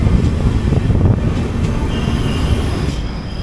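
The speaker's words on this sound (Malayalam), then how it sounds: "നമ്മൾ ജസ്റ്റ് കൊല്ലം ജംഗ്ഷൻ സ്റ്റേഷനിലോട്ട് കയറി." A passenger express train pulling into Kollam Junction station, a loud steady rumble of wheels on rail with a thin metallic squeal emerging toward the end, heard from aboard.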